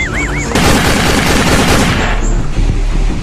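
Rapid bursts of gunfire crackle loudly and continuously, a dense volley of shots lasting a few seconds with no talking.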